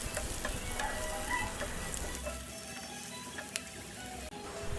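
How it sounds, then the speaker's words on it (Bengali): Chopped onions frying in oil in a frying pan, a soft steady sizzle with light stirring scrapes and an occasional tick, fairly quiet and close. "ফ্রাই প্যানে আমি তেল দিয়ে দিয়েছি, পেঁয়াজ দিলাম। এটা এখন লাল লাল করে ভেজে নিতে হবে।"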